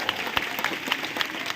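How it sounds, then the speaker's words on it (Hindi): A crowd at a college speech event gives a brief burst of steady, mid-distance clapping that runs through the whole short moment. "जोरदार तालियां हो जाए।"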